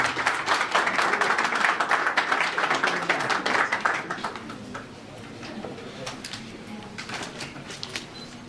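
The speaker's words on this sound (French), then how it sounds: "Merci d'applaudir encore." Applause from the audience at a press conference marking a DJ's ten-year career, a few seconds of clapping that thins out into scattered claps.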